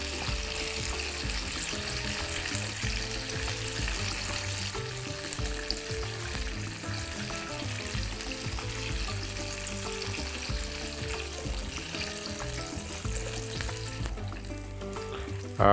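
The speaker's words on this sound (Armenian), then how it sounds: "Նույն կերպ տապակում ենք մնացածը։" Chicken drumsticks frying in a pan, a steady, close oily sizzle with bubbling and occasional spatter that continues evenly before easing near the end, no voices.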